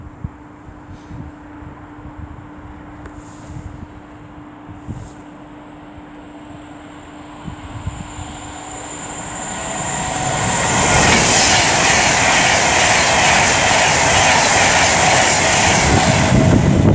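An Avanti West Coast Class 390 electric train approaches and passes on the main line, a faint rumble and hum swelling into a loud, sustained rush of wheels and rail noise.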